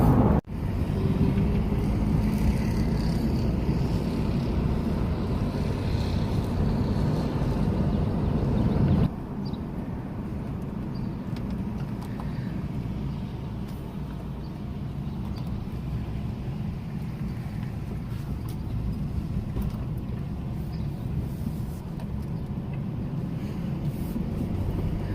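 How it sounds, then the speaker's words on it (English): A vehicle drives around a property, its engine and tyre rumble a continuous low drone with wind buffeting the microphone, steady and close, easing slightly partway through. "So I was just driving around the property"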